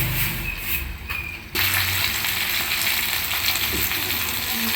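Elephant foot yam pieces fry in a pan with a loud, steady sizzle. It is a little quieter at first, then jumps to a fuller, constant hiss partway through.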